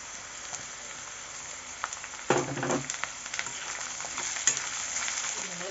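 Mango pieces and garlic fry in oil for a pickle, a low, steady sizzle with a louder crackling burst in the middle as the pieces go in, followed by light stirring clatter, close by and with no talking.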